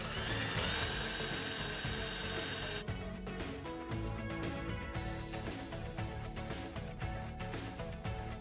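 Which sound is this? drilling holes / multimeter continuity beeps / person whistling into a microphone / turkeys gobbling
drilling holes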